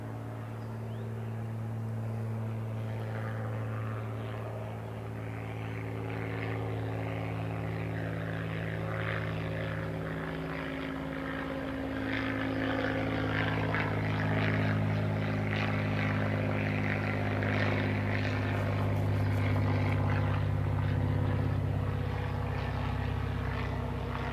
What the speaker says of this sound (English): we're about to have a low-flying airplane come overhead